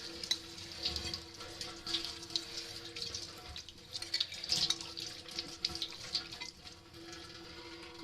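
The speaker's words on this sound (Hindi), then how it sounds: "अब ये मैं अंडे की प्लेट धो दूँ" A tap runs as an egg plate is washed at a kitchen sink, a fairly quiet, uneven stream of splashing water with small clatters, near and steady without talk.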